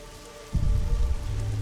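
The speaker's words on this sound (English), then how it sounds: "It's raining." Rain in The Witcher 2 video game starts abruptly after a quiet moment, then continues as a steady close patter and splash of drops, with no talking.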